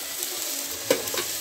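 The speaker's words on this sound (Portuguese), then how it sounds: "Depois que ele fritar bastante, eu vou acrescentar essa abobrinha aqui." Okra and zucchini frying in a pan, a steady close sizzle with a brief stir or clink partway through, no talking.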